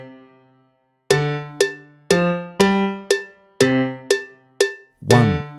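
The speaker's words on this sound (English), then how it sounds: "So with a click track" A metronome click track plays a steady beat of sharp, bright percussive clicks with ringing tails, about two per second after a brief faint lead-in, alone and close.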